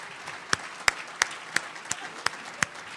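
Sharp, evenly spaced claps, about eight across three seconds, ring out over a quiet room at a conference for newly elected county commissioners, forming a slow rhythmic beat.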